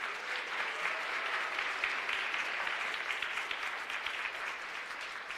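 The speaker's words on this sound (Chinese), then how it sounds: "再一次热烈掌声赞成他们" A crowd at a church wedding ceremony claps warmly, a dense, sustained round of applause heard from within the room and holding steady throughout.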